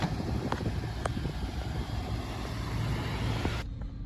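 A 1994 Cadillac Fleetwood Brougham driving down the road, its steady broadband road and engine rumble filling the cabin at moderate level, with a few faint clicks and the noise dropping off near the end.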